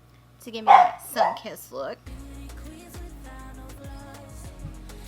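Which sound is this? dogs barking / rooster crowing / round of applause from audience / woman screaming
dogs barking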